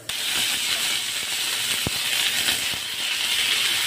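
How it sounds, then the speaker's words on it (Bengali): Taruli pieces frying in hot oil with black cumin, a steady broadband sizzle and hiss running throughout at close range, with a few soft clicks of stirring, no talking. "তরুলিগুলোকে দিয়ে ভালো করে নেড়ে ছেড়ে একটু ভাজা ভাজা করে নেব।"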